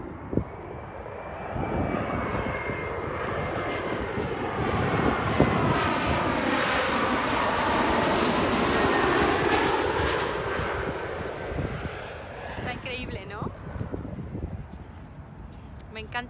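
A fixed-wing airplane landing at Dallas Love Field roars overhead, rising to a loud sweeping peak mid-clip and then fading, heard from a nearby park with faint voices.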